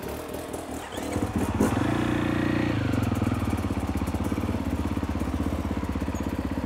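A dirt bike engine lugs at low speed during an enduro clutch-control exercise, a steady, close, chugging low rumble that holds evenly after a short, quieter start.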